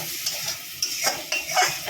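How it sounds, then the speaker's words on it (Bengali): Chopped tomatoes and peas fry with spices in a pan, a soft hiss of sizzling oil with a few scraping strokes of stirring, near and fairly quiet. "এখন এগুলোকে ভালোভাবে ভেজে নিতে হবে"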